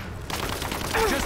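Gunfire in Rise of the Tomb Raider: a burst of loud rapid shots crackles close by in a short volley, with a brief tonal game sound near the end.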